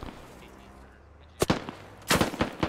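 Gunfire in the SquadOps video game: a sharp single shot followed by a short burst of rapid shots, loud and close against a low ambient background.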